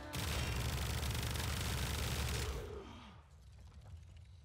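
Velox automatic pistol in the Warframe video game, a loud dense burst of rapid mechanical firing and clatter lasting over two seconds, then cutting off into quieter reload clicks and a fading tail.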